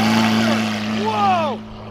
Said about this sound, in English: I feel like the new exhaust tips make the exhaust have a deeper tone